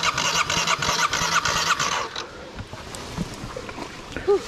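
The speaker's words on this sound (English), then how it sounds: "Let's push her out. Yeah, let's see if we can get her started." An off-road vehicle's engine cranks after being pushed out of mud, a rapid rhythmic churning for about two seconds that then stops, followed by faint outdoor noise and a brief voice.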